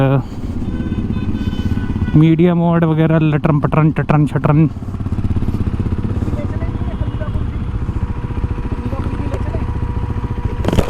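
A KTM RC 390 motorcycle engine while riding, heard as a brief loud revving burst in the middle beneath steady wind and road roar, with someone talking over much of it.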